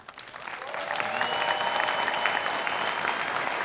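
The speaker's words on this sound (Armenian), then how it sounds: "Աղջիկները ծափ են տալի" A TV studio audience of girls claps. The applause swells quickly into a steady, dense patter that holds for several seconds, with a faint crowd murmur underneath.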